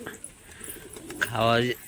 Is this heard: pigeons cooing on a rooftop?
yes